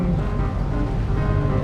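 Wadden Sea waves rushing against a sailing boat, a steady broad wash of water and wind noise, loud and close throughout, with no voices.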